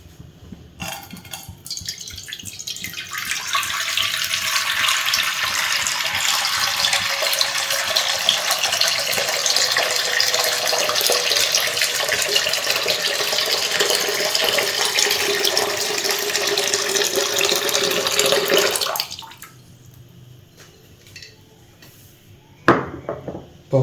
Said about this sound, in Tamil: 1 லிட்டர் தண்ணி ஊற்றிக்கலாம்.